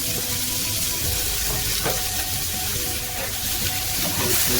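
Onions, garlic and ginger hit a smoking-hot pan for a chicken stir-fry, giving a steady, loud sizzle and crackle with faint scraping of stirring throughout, no voices.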